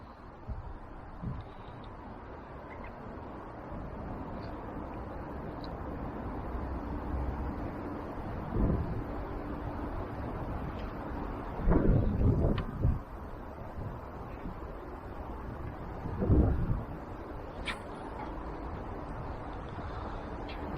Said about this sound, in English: See if the wind brutalises us again.